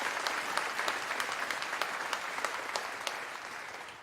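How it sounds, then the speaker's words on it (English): Applause fills the hall at a university graduation ceremony, as a large audience claps steadily and densely with crisp individual claps standing out before it eases slightly toward the end. "Can we give them a round of applause for their accomplishments?"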